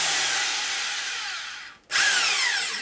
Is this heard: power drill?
yes